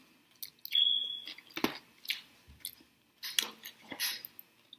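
Close, crunchy chewing of fries during a mukbang eating show, with bursts of mouth sounds and crisp bites separated by short pauses; no talking.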